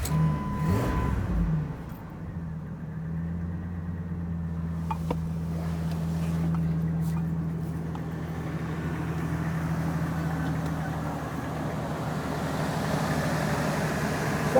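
A Ford 6.9 IDI diesel engine, not started in a while, cranks briefly and catches, then settles into a steady low rumbling idle heard from inside the cab, loud and continuous.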